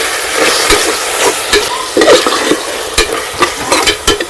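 Tomatoes with cinnamon, black pepper and salt are stirred in a pan, with loud, close scraping strokes in an irregular rhythm over a soft frying sizzle.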